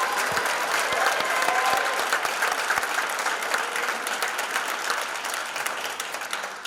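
An audience at a 2024 Fruitport Hall of Fame induction ceremony claps for the 1991 and 1992 teams, with dense, sustained applause throughout and a few sharper claps standing out near the start.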